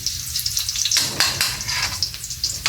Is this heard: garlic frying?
yes